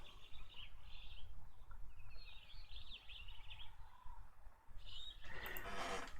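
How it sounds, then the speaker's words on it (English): Songbirds chirping and warbling in short bursts over a low rumbling background, fairly faint and distant, with a louder rustling noise near the end. "Mary Elizabeth sent me this recording of songbirds."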